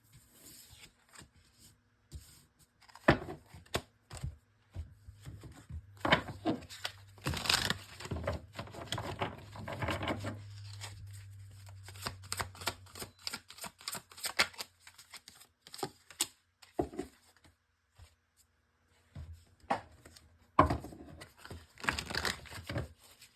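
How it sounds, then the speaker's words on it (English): Thick tarot cards being shuffled by hand, a series of close dry riffling and rustling bursts in irregular clusters with short pauses between, fairly quiet and free of talk. "These are so thick, it's hard for me to shuffle."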